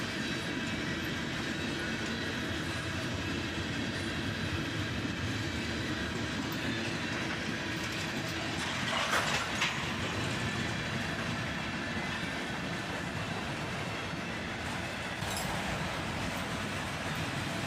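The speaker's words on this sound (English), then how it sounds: "another EMD on the tail end of this lash up, a GP38-2 heading north." A northbound freight train with an EMD GP38-2 locomotive trailing in the lash-up rolls past, a continuous loud rumble with wheel clatter and brief screeching flares around the middle and later.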